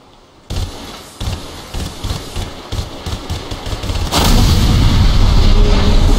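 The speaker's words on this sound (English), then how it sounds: "Shoot the container!" Rapid bursts of gunfire fired at a container in the video game Enslaved: Odyssey to the West, loud repeated blasts with a heavy rumbling roar building behind them.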